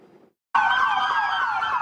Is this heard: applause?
no